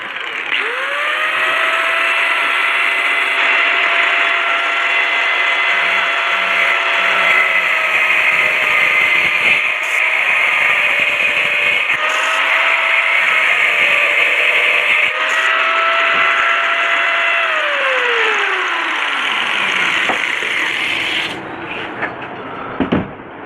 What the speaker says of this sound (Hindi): ये हमारा ग्राइंडर चालू हो गया।